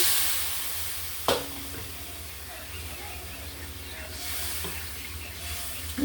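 Liquid is poured into a pan of sizzling spice masala, a sharp splash and burst of hiss followed by steady bubbling and steamy frying at close range, with a second surge of sizzle near the end.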